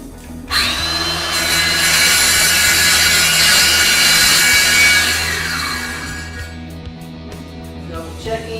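A power saw with its blade set to half an inch cuts through a fiberglass shower, starting abruptly with a loud, close whining grind that holds steady for several seconds, then winds down and fades.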